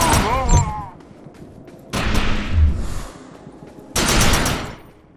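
Gunfire erupts in the Defiance video game during an attack on projections: short loud bursts of shots with booming impacts, separated by brief lulls, with a voice speaking near the start.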